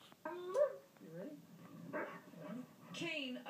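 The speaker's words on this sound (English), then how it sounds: "Kane, a German Shepherd, is searching for drugs inside this vehicle." A German Shepherd police dog searching a vehicle for drugs at a K9 trial gives several yips, whimpers and short barks spread across the clip, with a voice talking under them.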